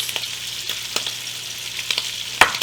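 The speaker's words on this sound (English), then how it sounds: "and then I'm going to add my onion, and this is about a half of a medium-ish red onion" Sliced and quartered red onion for an eggroll stir-fry frying in a pan, a loud, steady sizzle with light stirring clicks scattered through it, with no talk.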